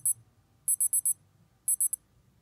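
High-pitched electronic beeps from a 1985 Aqualand digital watch alarm sound in quick bursts of four, repeating with short pauses between them, close and sharp.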